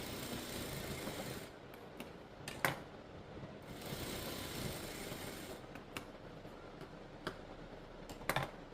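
A sewing machine sewing a double stitch on a blouse runs in steady whirring bursts, close and fairly quiet, separated by brief pauses and small clicks, with no talking.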